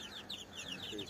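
Young chicks about seventeen days old cluster over poured feed, a continuous busy chorus of high peeping and soft clucking, close and fairly steady throughout.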